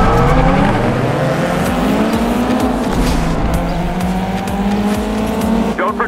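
Race cars roaring through a GT Racing 2 game race, several engines droning and shifting pitch together as they accelerate, loud and continuous with a brief rising whine near the end.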